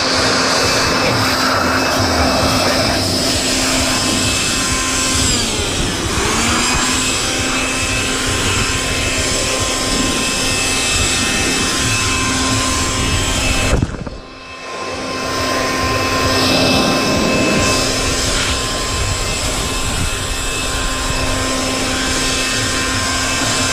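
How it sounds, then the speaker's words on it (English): A blower runs loud and steady, a continuous roar blasting ants out of an aluminum gym equipment tube, with a brief dip in the noise partway through before it resumes at full force. "I'm going to tell you how much this blower cost"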